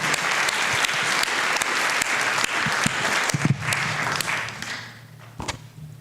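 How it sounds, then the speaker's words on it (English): Audience applause for Ted Doolittle at a Friends of IRIS gathering, steady dense clapping from a crowd that fades toward the end with a few scattered late claps and thuds. "Applause for Ted Doolittle."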